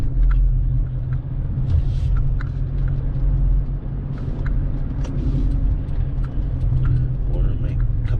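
A 2010 Honda Odyssey EX-L minivan drives slowly around the block, with a steady low engine and road rumble heard from inside the cabin and people talking over it throughout.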